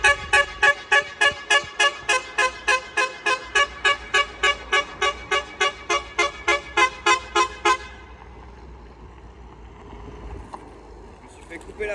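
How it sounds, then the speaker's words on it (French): A horn toots in a long rapid series of about twenty short, evenly spaced, loud blasts at the 24 Hours of Le Mans race, then stops abruptly, leaving quieter crowd and outdoor ambience. "Je me suis fait couper la parole par un klaxon."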